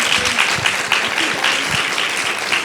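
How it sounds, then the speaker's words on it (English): Audience applause honoring digital navigators at a community program discussion, a steady dense patter of many hands clapping throughout, fairly close and even in level, with no talking over it. "let's give a round of applause for our digital navigators"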